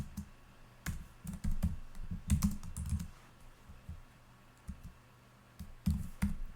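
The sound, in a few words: typing a comment on a computer keyboard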